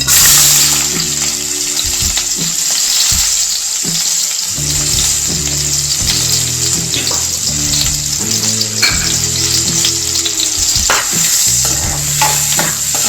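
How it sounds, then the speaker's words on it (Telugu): Onions dropped into hot oil in a pan while making egg macaroni pasta, giving a loud continuous sizzle and crackle with stirring scrapes and a low hum running underneath. "ఆయిల్ హీట్ అయిపోయిందండి ఇప్పుడు ఇందులోకి ఆనియన్స్ వేసుకుందాం"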